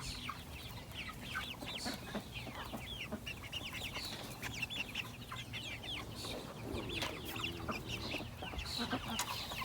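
Chickens and young roosters cluck and squawk continuously on a farm, many birds at once, close and steady with overlapping calls throughout.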